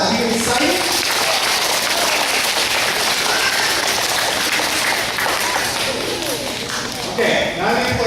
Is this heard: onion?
no